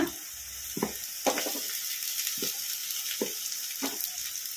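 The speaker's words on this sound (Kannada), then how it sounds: "ಉಳ್ಳಾಗಡ್ಡಿ ಒಂದು ಸ್ವಲ್ಪ ಫ್ರೈ ಆಗಿದ್ದಾವೆ ಈಗ ಇದಕ್ಕೆ ಕ್ಯಾಬೇಜ್ ಹಾಕೋಣ" Onions frying in hot oil in a home kitchen pan for egg fried rice, with cabbage going in: a steady, close sizzle broken by a few soft stirring scrapes, with no talking.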